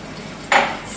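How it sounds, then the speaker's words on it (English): A quarter cup of water poured into a hot cooking pot of Indian food, giving a sudden hiss and splash that fades into a low simmering sizzle, close and brief. "then you pour 1/4 cup of water"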